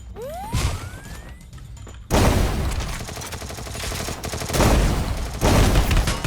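Gunfire in the Free Fire video game. After a rising whoosh, a loud, sustained fusillade of rapid shots crackles for several seconds, swelling in bursts with some heavier thuds among them.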